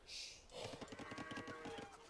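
A cow from Age of Empires II lets out a faint, drawn-out moo with a pulsing, throaty texture, quiet and set alone without any talk over it.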